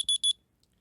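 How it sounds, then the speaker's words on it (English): A high alarm tone from the Dextender Android app sounds as two short, loud, shrill electronic beeps in quick succession, followed by near silence. "let me just play high alarm"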